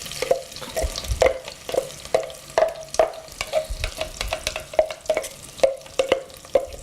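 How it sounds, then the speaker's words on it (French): Onions frying in melting butter over medium heat sizzle steadily, broken by a regular run of scraping, clicking stirs close by. "Une fois que le beurre commence à fondre, on rajoute les oignons."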